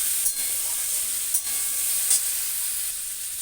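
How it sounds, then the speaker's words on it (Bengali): Water poured into a hot pan of fried spice paste with ginger, green chilli, cumin and tomato gives off a steady, even hiss of sizzling steam with a few faint taps. "জল দিয়ে দিচ্ছি।"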